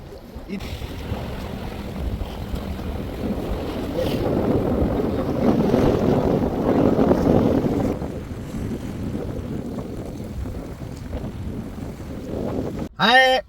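Strong wind at sea buffets a fishing boat off Fujairah in the UAE, a loud gusting rumble swelling and easing against the hull and microphone, ending with a short sharp tonal sound.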